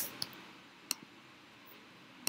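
Three sharp, isolated mouse clicks spaced over a couple of seconds while setting up a navigation menu in Shopify, close and fairly faint against a quiet room background.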